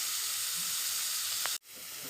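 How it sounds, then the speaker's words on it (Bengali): Onion, green chilli, bay leaf and cumin frying in mustard oil, a steady close sizzle that cuts off abruptly near the end, then resumes more softly. "এবার দেব সরিষার তেল ও তেজপাতা, পেঁয়াজ ও কাঁচামরিচ, দেব জিরে, লাল করে ভেজে নেব।"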